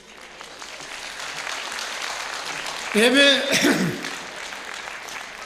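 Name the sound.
audience applause at a concert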